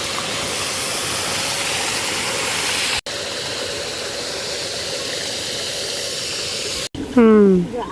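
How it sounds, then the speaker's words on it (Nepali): Heavy rain pours down in a Nepali mountain village, a dense, loud, steady hiss filling the scene, briefly broken before a voice speaks at the end. "आज पानी अहिले भयो त बढी"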